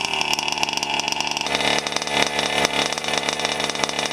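A small nitro-fuelled RC car engine screams close by, a raspy high-pitched buzz that rises and wavers in pitch with throttle changes.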